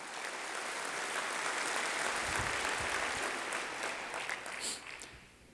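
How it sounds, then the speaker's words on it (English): A large audience at a 2019 State of the City address applauds the council and city team, a broad sustained roar of clapping that swells, holds, then tapers off toward the end, free of talk. "A big round of applause to our council and the whole team."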